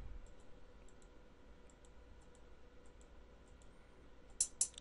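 Mouse clicks on a computer while working in ReDrum drum machine music software: faint, regular ticks, then a few sharper, louder clicks near the end in a quiet room.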